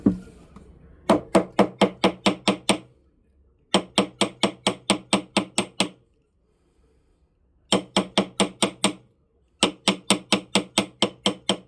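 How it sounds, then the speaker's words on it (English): A hammer taps on a welded steel roll at a rolling mill, striking in four quick bursts of about eight sharp, ringing, evenly spaced blows each, with short quiet pauses between the bursts. "let's do some more tapping here"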